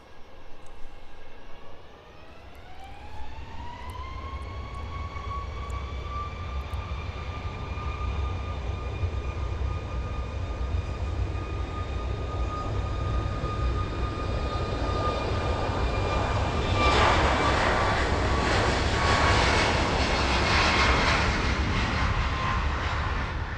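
A Rhino Air airliner takes off down runway 09 at East Midlands Airport on a warm afternoon, its jet engines spooling up into a rising whine and then holding a strong, steady roar that swells as it accelerates away.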